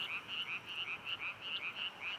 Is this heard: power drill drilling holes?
no